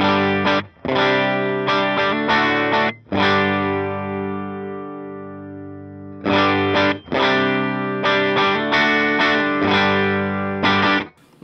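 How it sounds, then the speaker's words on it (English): Distorted electric guitar played through a Line 6 Helix with an early reflections reverb, chords and sustained notes with short gaps, one long ringing chord fading out, loud and close, no talking. "I'll put on the early reflections so you can see what the difference is"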